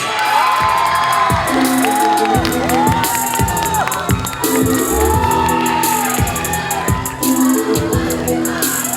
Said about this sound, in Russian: Громкие аплодисменты нашим победителям, нашим юношам.